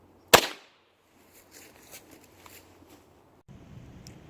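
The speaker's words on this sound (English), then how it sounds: "Let's see how badly it splinters the wood. Firing in 3," A single sharp gunshot from a powerful gun fired into a wooden plank at the 3/8 inch thick section, with a loud close crack and short decay, followed by faint rustling and handling noise.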